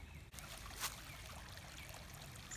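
Creek water trickling and burbling in the woods, a steady broadband wash that stays continuous and close throughout, with no voices.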